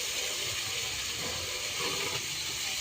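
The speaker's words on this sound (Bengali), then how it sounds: "আমি মাংসটা ভাজি" Meat frying in a pan gives a steady, broad sizzling hiss that holds at an even level from start to end, with no talk over it.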